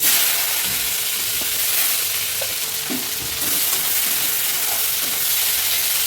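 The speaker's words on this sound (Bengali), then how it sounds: "ওই তেলের মধ্যে কালো জিরে ফোড়ন দিয়ে দিয়েছি কুচনো পেঁয়াজ দিয়ে দেবো" Chopped onion sizzles steadily in hot oil tempered with nigella seeds in a pan after fish has been fried, a loud continuous frying hiss with occasional stirring scrapes, close up and without talk.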